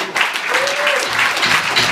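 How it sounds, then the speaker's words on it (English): A small group gives a sustained round of clapping for a team award at an office gathering, steady and fairly close throughout. "give yourselves a big round of applause"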